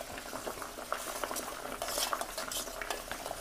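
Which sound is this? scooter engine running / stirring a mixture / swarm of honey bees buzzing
stirring a mixture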